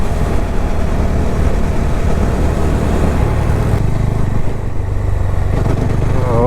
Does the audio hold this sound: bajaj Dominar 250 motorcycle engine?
yes